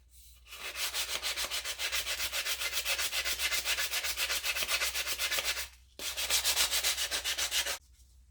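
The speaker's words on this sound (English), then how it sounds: "I'm just going to take my sanding sponge and just sand it down a little bit" Steady, rapid rubbing strokes of a sanding sponge on a handmade vessel, close up, with a brief pause before the scraping resumes.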